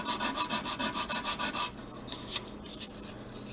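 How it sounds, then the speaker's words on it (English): Sanding a model glider wing edge at an angle: rapid rhythmic back-and-forth rubbing strokes, about a dozen in quick succession, then a few slower, scattered scrapes, close up with no talking. "So I'm going to just put it at an angle, what I think is about 15 degrees. Just sand that down."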